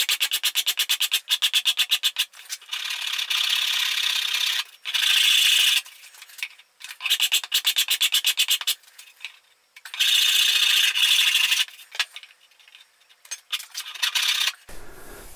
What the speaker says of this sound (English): I can now go in with the smooth side of the saw rasp and just start to even that up a little bit